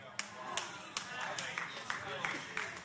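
A handful of scattered claps from a sermon audience, sparse and fairly faint, pop out at irregular intervals beneath a preacher's ongoing talk.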